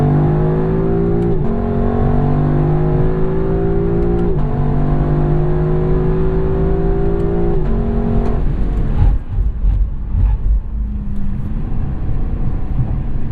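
A 2018 Lexus LC 500 V8 runs up through the gears with three rising pulls and crisp upshift breaks, then eases off into a rougher, lower burble, loud and steady throughout.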